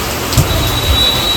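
Heavy monsoon downpour in a Rajkot street: a dense, steady hiss of rain with low rumbling underneath, filling the whole moment without pause and with no voices.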